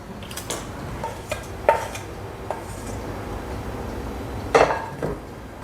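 Salted chopped vegetables being mixed in a bowl, with intermittent scraping and clinks of a spoon against the bowl, a few sharper knocks standing out, close and moderately loud with no talk.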